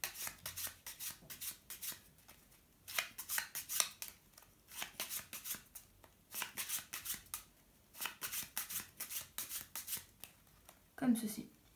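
A deck of playing cards is shuffled for a simple magic trick, producing repeated bursts of riffling and rubbing card noise in quick clusters, close up. Brief speech shows up around it.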